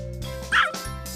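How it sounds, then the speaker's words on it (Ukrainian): A puppy in a children's animal-alphabet cartoon gives one short, bright yip over a steady background tone, standing out clearly for a brief moment. "Цуценя."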